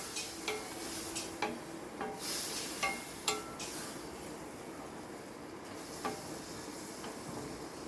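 A spoon stirs jackfruit curry masala with a little added water in a pan, giving irregular scraping taps against the metal over a soft, low sizzle.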